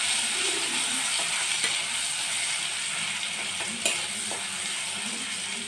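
Ginger garlic paste sautéing in hot oil for a spicy pointed gourd dish, giving a dense, constant close sizzle with a few faint scraping stirs and no talking.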